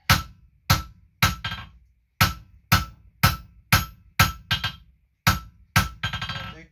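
Hammer forging a steel drift taper on an anvil, drawing the square taper toward an octagon: a steady run of about twelve sharp, ringing metal blows roughly half a second apart, close and loud, each decaying quickly.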